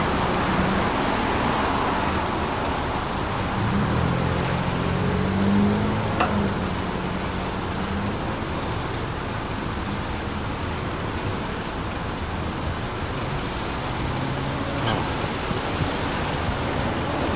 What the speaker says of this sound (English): Now I'm in traffic.